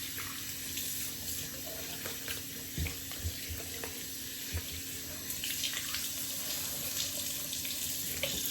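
Cold water runs from a bathroom tap into a sink during a straight razor shave, a steady close hiss with a few brief splashes and thuds as hands dip into the stream.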